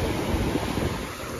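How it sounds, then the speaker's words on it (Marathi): Loud sea waves off the Malvan coast in Konkan, heard near a boat waiting for a parasailing ride: a steady roar of surf with heavy wind buffeting the microphone, no voices. "समुद्राचा लय आवाज होतो जोरात."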